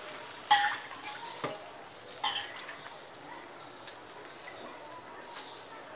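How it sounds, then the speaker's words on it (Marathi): A finger-millet (nachni) bhakri is laid onto a hot tava, giving a few soft slaps and light kitchen clatter against a faint background hiss, with no talking. "आपला हे तवा खूप छान तापलेला आहे. मी त्याच्यावरती भाकरी टाकते."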